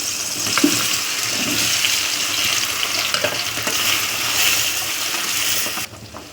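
Eggplant sautéing with tomatoes in a hot pan gives a steady, close sizzle throughout, with a few light stirring clinks and scrapes, and then the sound drops away abruptly at the very end.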